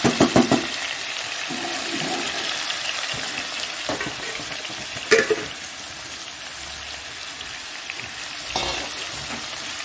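Potatoes frying lightly in a pan, a steady bright sizzle with occasional stirring clatters and pops scattered through, close and continuous without speech.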